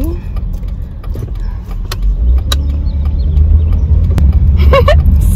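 Car interior while driving, a loud steady low engine and road rumble filling the cabin, with scattered small rattles and clicks and a voice speaking over it.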